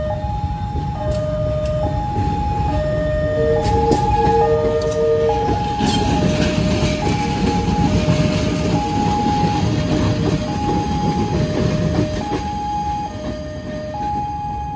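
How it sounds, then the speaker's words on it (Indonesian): Locomotive 7711, burned and damaged in a collision with a truck and covered in tarpaulin, rolls into track 4 at Lempuyangan station with a steady rumble, while a repeating melodic chime sounds over the rail noise. "Kirim lokomotif 7711 masuk di jalur 4 stasiun Lempuyangan."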